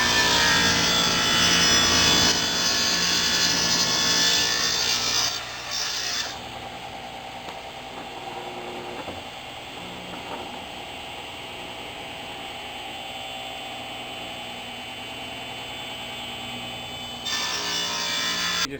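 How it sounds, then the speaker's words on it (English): Handsaw cutting a wooden tenon for a Morris chair stretcher, with steady back-and-forth rasping strokes, loud and close at first, then a quieter, more even stretch of sawing before the louder strokes return near the end; no talk. "I'm going to start cutting the mortises. And I mean the tenon."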